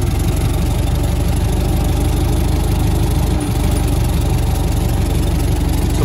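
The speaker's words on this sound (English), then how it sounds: "So you just push down on the starter." A Ford Model T engine idles in a steady, loud, low rumbling chug, running continuously close by with only a brief dip in the middle.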